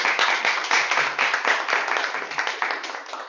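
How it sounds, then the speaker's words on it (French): Audience applause at a Toastmasters club session, steady brisk clapping from a small room of people, close and continuous throughout. "Ok, on applaudit."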